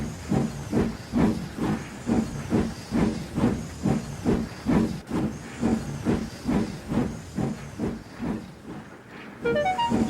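A steam locomotive in the Trainz video game chuffs in a steady rhythm of hissing exhaust beats as it pulls in, then slows to a gentle stop with a final burst of steam.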